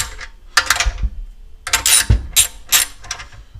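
A 13 mm socket wrench works nuts loose on a Kohler Command Pro 7 engine, with clicking ratchet bursts and metallic rattles in short close groups, separated by pauses.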